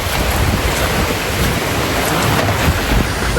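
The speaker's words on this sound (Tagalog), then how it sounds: "Sobrang lakas po ng ulan." A dense, steady roar of heavy rain fills the whole clip, broadband and loud, with no voices.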